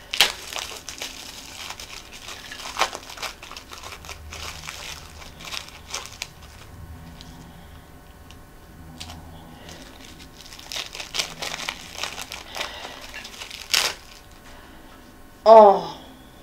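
Plastic packaging being unwrapped from a newly arrived package, with bursts of crisp crinkling and rustling that come and go in close, uneven clusters; a voice is faintly present at times.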